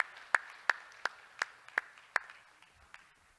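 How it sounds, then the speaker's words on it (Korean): At a birthday gathering, a handful of sharp, evenly spaced claps ring out in a slow, steady beat, fairly faint in a quiet room and fading after about seven claps. "우리 다 같이 박수로 한번 다시 격려하겠습니다"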